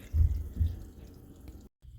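Coolant draining out of the radiator of a John Deere 445 tractor, heard as a close low dribbling splash with a couple of stronger gurgles before it cuts off.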